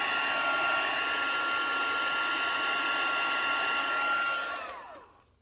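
A heat gun blows a steady, loud broadband whoosh while heat embossing a birthday card, holding constant for several seconds, then winding down with a falling whine as it is switched off.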